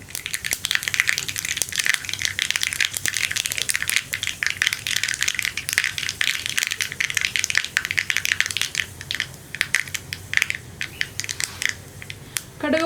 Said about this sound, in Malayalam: കടുക് ഒന്ന് പൊട്ടി തുടങ്ങട്ടെ.